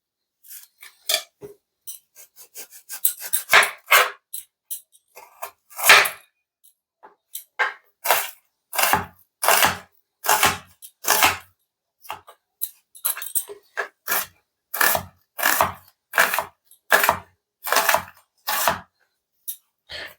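A knife chops onions on a board in sharp, close taps, sometimes in quick runs and sometimes more spaced, with short pauses and no talk.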